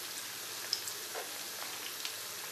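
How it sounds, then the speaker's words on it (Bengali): Vegetable chicken rolls, nuggets and singara frying in hot oil, giving a steady, close crackling sizzle with scattered small pops, no voices. "রাত্রের নাস্তা ঘুমের আগে ভেজিটেবল চিকেন রোল নাগেটস আর সিঙ্গারা ভেজে নিচ্ছি"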